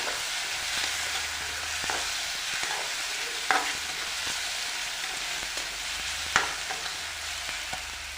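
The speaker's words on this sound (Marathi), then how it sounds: "हा मिरचीचा ठेचा तेलामध्ये व्यवस्थित दोन मिनटं असाच परतून घ्यायचा" Green chili thecha frying in oil in a pan for a village-style kardi leaf bhaji, a steady close hiss of sizzling with occasional sharp utensil scrapes and taps as it is stirred.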